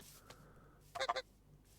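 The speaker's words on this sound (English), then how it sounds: "Also, why the geese are so fucking big? It's bigger than a natural goose, isn't it?" Oversized goose from the Naturalist addon in Minecraft Bedrock Edition, giving one faint early honk and then a close burst of three or four quick raspy honks, with another starting at the very end.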